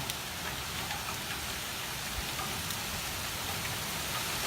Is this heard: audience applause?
no